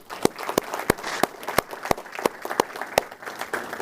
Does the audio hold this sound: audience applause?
yes